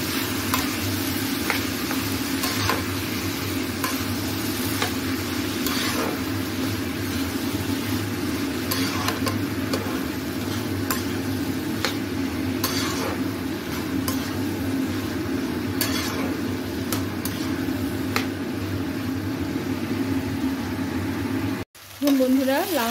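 Bottle gourd with shrimp cooks in a pan, giving a continuous close sizzle with a steady low hum and occasional light crackles, then a short break and a brief clatter at the end.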